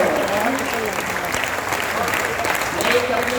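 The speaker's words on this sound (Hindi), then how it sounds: "आप इतनी तालियों से सुनते रहेंगे तो उसको सुनाऊंगा" Sustained applause from an audience at a Hindi poetry recital held in an auditorium, steady dense clapping throughout with some crowd murmur mixed in.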